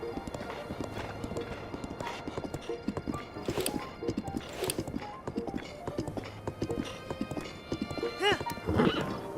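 Hooves clip-clop at a steady walking pace in the video game Breath of the Wild, with a horse whinnying near the end, while a voice talks over the footsteps.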